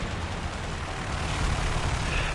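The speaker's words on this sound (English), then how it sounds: "Oh, look, airplane." A War Thunder airplane passes overhead: a continuous broad engine roar that swells gently toward the end, fairly loud and steady, with no talking.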